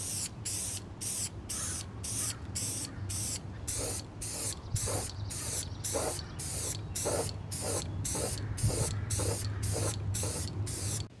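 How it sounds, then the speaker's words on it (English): Brake cleaner sprays from an aerosol can onto a tube preamp pedal enclosure before painting, in about two dozen short, sharp hissing bursts in a quick, even rhythm, close and fairly loud over a low background hum. "so I'm just going to use a little bit of brake cleaner"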